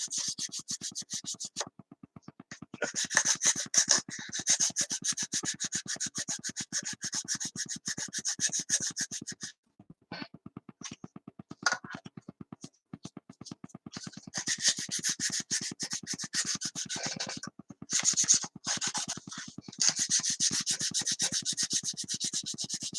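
Steady rasping strokes of white sandpaper rubbing the tail surface of a 1/72 scale vacuform Hawker Siddeley Nimrod model kit, close and continuous with a few short pauses over about twenty seconds.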